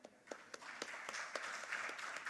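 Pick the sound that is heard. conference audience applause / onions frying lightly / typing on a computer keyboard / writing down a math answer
conference audience applause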